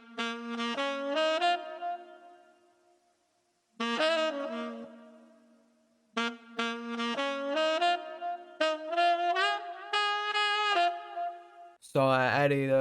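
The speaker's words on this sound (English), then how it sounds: "And I also found this saxophone loop from Splice," A dry saxophone loop without effects plays a series of sustained and stepped notes in phrases, separated by short gaps of silence. The tone is clean and up close, with a sharper burst of sound at the very end.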